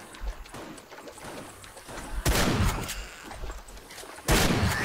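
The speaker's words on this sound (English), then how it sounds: "Headshot with a shotgun on Fatty" Shotgun fire at zombies in the video game 7 Days to Die: two loud, sharp blasts, the second about two seconds after the first, over a low background of game noise.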